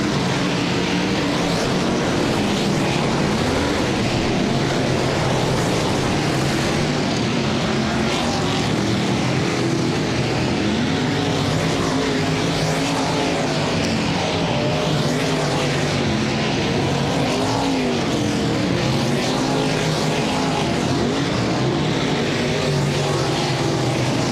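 Dirt late model race cars run hot laps at Cedar Lake Speedway, engines roaring loud and continuous as the field circles the track, with a faint commentator voice underneath.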